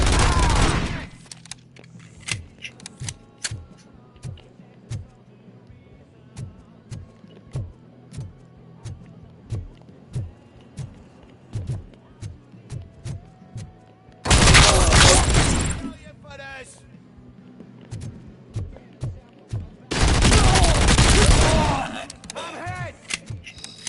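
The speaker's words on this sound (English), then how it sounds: "I'm just playing with the gold gun." A gold gun fires repeatedly in a Robocop video game, sharp individual shots spaced through quieter stretches, broken by two loud, dense bursts of heavy gunfire, with a voice talking in places.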